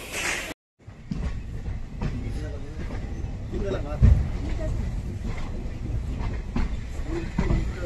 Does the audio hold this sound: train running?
yes